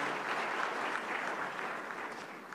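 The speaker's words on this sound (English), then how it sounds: "Another round of applause for this." An audience at an international health conference applauds, a soft, uniform patter of many hands heard from a distance, steady throughout and easing off slightly toward the end.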